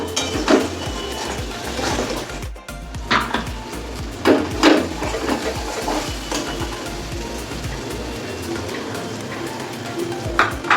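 Green chilli and turmeric fry in a pot for a chicken and cabbage curry, with clattering utensil scrapes and knocks against the pot over a low frying hiss.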